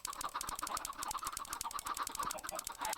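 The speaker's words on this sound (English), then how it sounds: "the prank was tons of chickens" Dense crowd of clucking chickens in a video game, many overlapping squawks and clucks in a busy, steady chatter with flapping bursts throughout, fairly loud and close, no talking.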